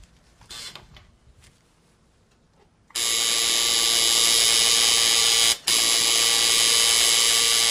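A tattoo machine starts after a few quiet seconds and then runs as a loud, steady high buzz, dropping out once for a split second before carrying on.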